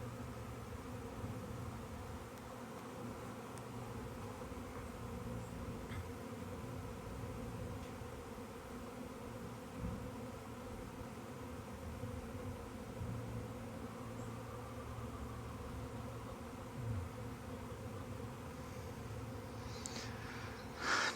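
A bee swarm buzzes outdoors in a continuous low hum that holds at an even level throughout, with occasional individual bees passing closer and no talk.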